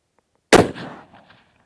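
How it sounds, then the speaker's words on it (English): A single loud rifle shot at an outdoor shooting range cracks sharply after a brief silence, then a short rolling echo fades away. "let's go ahead and take a follow-up shot"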